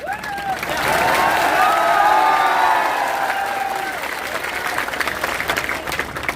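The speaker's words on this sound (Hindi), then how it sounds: "इस पर ताली मारिए।" A big crowd at a political rally breaks into applause and cheers, swelling quickly then easing into steady clapping, with whistles and shouts rising above it.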